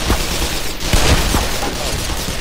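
Gunfire and bursts of shots in the video game Black Mesa, a dense, loud battle din with several sharp bangs over constant rumble and faint voice underneath.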